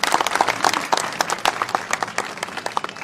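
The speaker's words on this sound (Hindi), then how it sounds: "एक बार जोरदार तालियों के साथ" A crowd at a BJP gathering welcoming Union minister Gajendra Singh Shekhawat breaks into loud, close, dense clapping that swells and flutters for about three seconds, with no talk over it.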